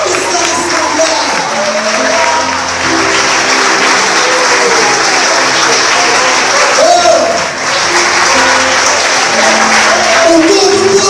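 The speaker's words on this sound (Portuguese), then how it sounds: "Você pode aplaudir mais forte" Loud, sustained applause from a church congregation fills the space, a continuous wash of clapping with a brief dip midway and voices mixed in throughout.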